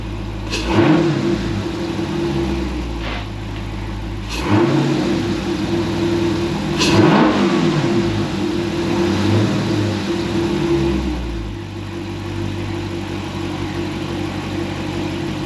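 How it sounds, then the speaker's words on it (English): A Dodge Charger or Challenger 392 engine with a ported intake manifold idles with a low rumble, revving up sharply three times at intervals before settling back down. "give it a couple of revs"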